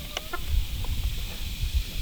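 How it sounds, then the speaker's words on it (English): White leghorn roosters cluck nearby in a quick run of short, sharp clucks, with low scuffling noise underneath. "she needs white leghorn roosters"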